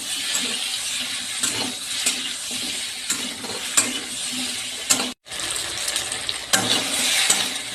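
Crackling sizzle of turmeric-spiced mango frying in a pan with repeated stirring scrapes, a brief dropout partway through, no talking.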